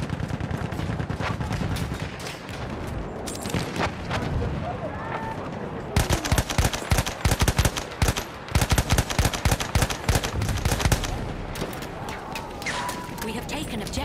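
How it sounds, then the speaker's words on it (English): Machine gun fire in a military video game crackles in rapid bursts, sporadic at first and then sustained and loud in the second half, with soldiers' voices talking over the battle. "Enemy machine gun sighted."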